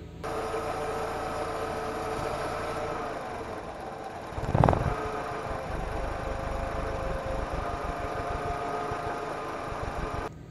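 A car engine idles steadily after its PCV crankcase ventilation valve is refitted, a continuous low hum with a brief louder bump midway, close to the microphone, with no voices.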